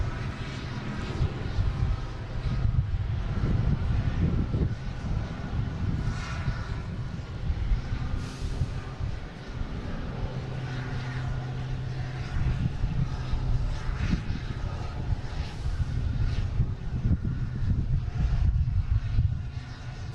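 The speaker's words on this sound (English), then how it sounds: "we have the Delta A330-900 heading to Madrid. Flight 62 taking off on 4 right." A Delta Airbus A330-900 on its takeoff roll from runway 4R at Boston Logan, a sustained heavy jet engine roar with low rumble that stays loud and steady throughout, heard from a distance.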